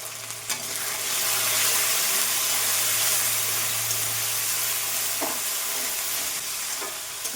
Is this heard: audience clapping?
no